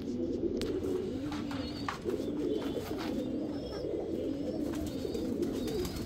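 Pigeons kept for racing coo in a low, steady rumble, with several birds overlapping continuously at close range and a few faint chirps above.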